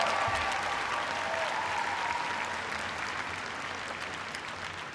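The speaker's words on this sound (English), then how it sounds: "Give them a big round of applause." A crowd breaks into applause, a broad wash of clapping that starts strong and gradually fades over several seconds, heard from some distance.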